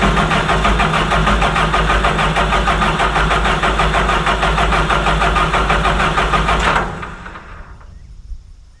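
A wood chipper's diesel engine, missing its cooling fan, runs loud and steady at a rough idle with a rapid chugging pulse, then cuts off and winds down into near silence with faint rattles.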